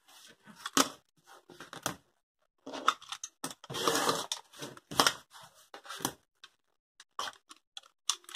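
Scissors slice through patchwork cotton fabric in a run of crisp snips and longer crunching cuts, close and dry, with short pauses between strokes and no talk.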